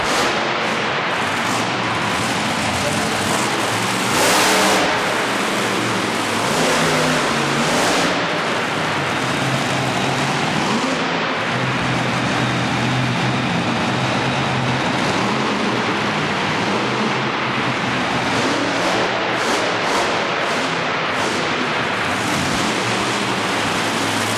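Monster truck Chalkboard Chuck roaring on the track at the Monster Nationals event in Corbin, Kentucky, a loud, continuous engine drone with surging revs and heavy broadband rumble throughout, no voices.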